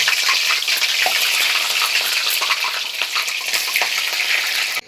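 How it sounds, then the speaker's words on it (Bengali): Steamed cauliflower pieces deep-frying in hot oil give a loud, steady, dense sizzle and crackle that runs unbroken and close, with no talk. "এবার আমি ছাঁকা তেলে কপিগুলো এক এক করে ভেজে নেব"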